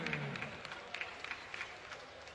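Applause from a boxing crowd as a fighter is introduced, thin and distant with scattered individual claps over a low hall murmur.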